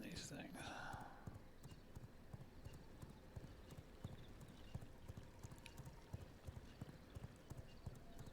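Horses clip-clop in the V Rising video game, with continuous, fast hoof beats over a steady rumble and a brief splashing burst near the start, while someone talks over it.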